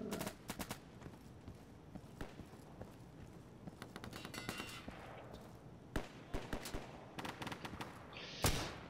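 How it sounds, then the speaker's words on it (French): Scattered rifle shots and short bursts of gunfire in the tactical shooter game Insurgency, mostly distant and moderate with a few sharper nearby cracks over a steady background of battle ambience. "ça tire derrière"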